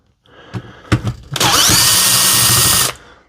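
Cordless power driver backing screws out of the casing of a Dewalt DCS367 reciprocating saw, a few short clicks and taps, then a loud, whining, high-pitched run of about one and a half seconds that stops abruptly.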